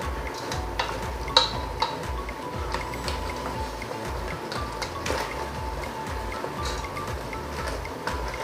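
Crab in coconut milk gets stirred in a pan, with steady scraping and stirring over a soft bubbling simmer and occasional small clinks, close and continuous.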